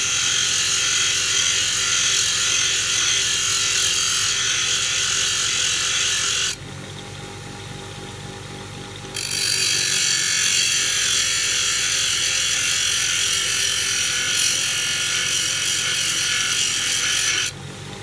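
A steady, loud grinding whir of a power drill cutting into metal runs almost continuously, dropping in pitch briefly midway before resuming.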